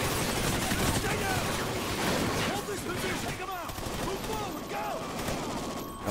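Dense gunfire in Call of Duty: Ghosts, continuous overlapping bursts and shots with chirping electronic sweeps, loud and busy throughout.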